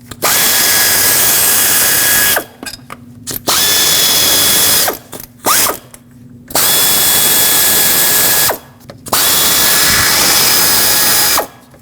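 A power tool loudly spins out fasteners during water pump removal on a 2006-2015 Lexus IS250, sounding in four long sustained whirring bursts separated by brief pauses with ratcheting clicks, close and with no voices.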